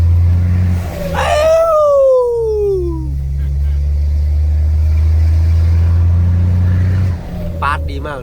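An Isuzu 360 ten-nut truck engine drones low and steady while driving, a continuous rumble from inside the cab, with a voice briefly heard over it near the start and again at the end.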